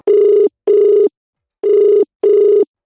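A phone rings in a loud, steady double-ring pattern, two buzzy tones, a pause, then two more, close and clear, with no talking over it.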